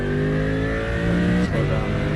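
Race car engine heard from the cockpit in the iRacing sim, a steady loud drone that shifts pitch briefly mid-way, with no voices.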